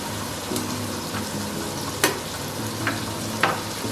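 Seafood chowder made with snapper being stirred in a pot, a continuous close scraping and bubbling with a few sharper knocks of the utensil against the pot.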